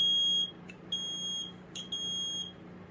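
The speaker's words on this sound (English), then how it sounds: "This is only a test. The alarm will sound. It's going to be loud." A 2007 FireX smoke alarm sounds its test pattern: loud, piercing beeps in long sustained bursts separated by short gaps, over a faint steady hum in a quiet room.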